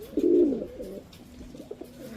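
Pigeons kept for sale in Bangalore give a few soft, low coos, close by and fairly quiet, with a louder coo at the start and gentler ones after.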